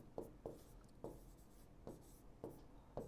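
Pen or chalk writing out an equation during a Class 10 lesson on linear equations, with short scratchy strokes in an irregular rhythm and brief pauses between them, close and fairly quiet.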